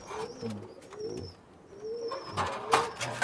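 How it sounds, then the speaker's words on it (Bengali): Pigeons at a pigeon farm coo in low, repeated rolling phrases, close and clear, with a short burst of handling noise near the end. "এটা রয়েছে শেলকোটি কবুতর"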